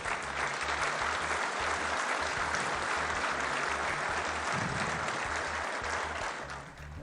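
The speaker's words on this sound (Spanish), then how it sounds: "ahí el aplauso del auditorio" An auditorium audience applauds after a political speech, steady sustained clapping with a rhythmic low thumping underneath, easing off slightly at the very end.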